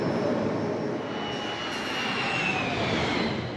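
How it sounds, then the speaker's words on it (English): A 1968 Lotus Indy race car powered by a Pratt & Whitney turbine jet engine gives a steady, loud, whooshing whine with a sustained high tone that slowly shifts in pitch, with no talking. "the ultimate showdown between standard piston-powered race cars and the relatively new turbine jet engine race cars"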